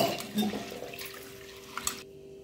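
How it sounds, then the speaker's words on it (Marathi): Sago pearls swished and rinsed in a pot of water, with close sloshing and trickling that settles into a faint wash before cutting to quiet near the end. "हे स्वच्छ आपण धुवून घेणार आहोत 1 ते 2 पाण्यामध्ये"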